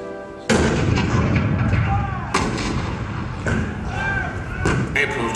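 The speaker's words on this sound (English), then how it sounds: "The cannon spoke for war, bitter, violent, and devastating." Cannon fire depicting Fort Sumter in 1861, played as a show sound effect: a heavy booming blast that rolls into rumbling echoes, then two more loud reports a couple of seconds apart, each decaying into a long reverberant tail.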